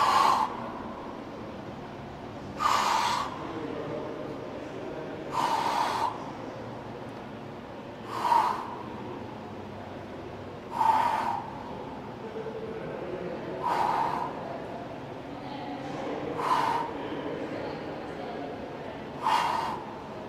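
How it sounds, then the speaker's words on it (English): Sharp, heavy exhalations during hanging knee crunches in a workout, about eight forceful breaths spaced roughly every two to three seconds, close to the mic over a steady low background hum. "really coinciding that breathing with every lift of my knees"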